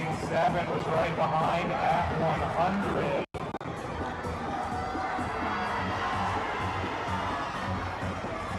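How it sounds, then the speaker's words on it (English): A crowd at a swimming meet whoops and shouts for a swimmer in a lane, loud and reverberant around an indoor pool, with a commentator talking over the din and a brief dropout midway. "one heck of a cheering section there"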